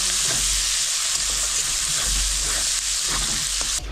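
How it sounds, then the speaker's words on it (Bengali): Chopped onions frying in oil for a Bengali katla fish curry give off a steady, loud, close sizzle that holds unbroken throughout. "এখন দিয়ে দেবো পেঁয়াজ কুচিগুলো। এটাকে ভালো করে একদম লাল লাল করে ভাজতে হবে।"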